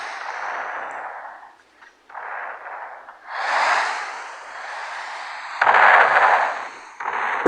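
Explosions blowing up enemy spawn points in a Roblox sky wars battle game: a run of loud, rumbling blasts and bursts that follow one another almost without pause for several seconds.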